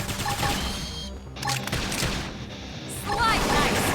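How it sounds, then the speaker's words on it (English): Rapid bursts of gunfire and impact booms in Xenoblade Chronicles X battle, dense and sustained, mixed with combat effects and voices. "Topple them with gunfire!"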